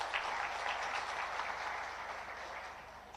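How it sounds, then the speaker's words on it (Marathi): An audience at a community get-together in Dombivli breaks into lively applause, many hands clapping together in a steady patter that fades slightly toward the end. "त्यांच्यासाठी एकदा टाळ्या वाजवा"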